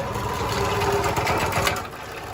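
A project car engine cranking over and over without catching, a steady loud rapid churning drone from the starter with a rough chugging texture, near and continuous.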